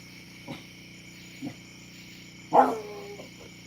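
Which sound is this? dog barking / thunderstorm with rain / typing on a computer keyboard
dog barking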